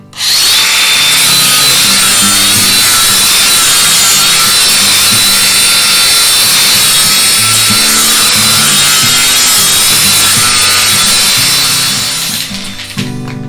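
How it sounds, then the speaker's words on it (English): A flap disc on an angle grinder grinds surface rust off a metal bracket for a barn door track, a loud continuous abrasive whine and rasp that holds steady for about twelve seconds before tapering at the end. "got it cleaned off, hit it with a flap disc"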